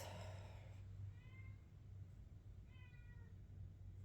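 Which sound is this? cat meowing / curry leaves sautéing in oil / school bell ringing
cat meowing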